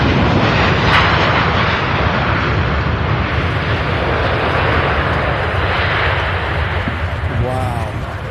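A large airplane landing at Louisville International Airport roars loudly and continuously as a broad, rumbling jet-engine wash that tapers slightly near the end, with a voice faintly heard over it.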